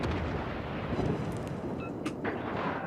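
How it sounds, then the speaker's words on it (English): Naval guns on a USS Dallas cruiser fire armour-piercing shells in World of Warships, a continuous heavy rumbling boom with sharp crackling impacts toward the end, loud and close with no talking. "I'm going to try some armour piercing in the guns on this next shot."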